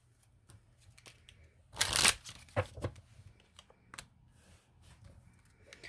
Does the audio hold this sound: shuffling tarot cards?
yes